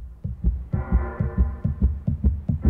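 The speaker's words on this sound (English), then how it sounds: "The heartbeat sound started." Heartbeat sound effect in the Nakwon Last Paradise video game: a steady, loud low double-thump pulse repeating about every quarter second, joined midway by a sustained droning tone.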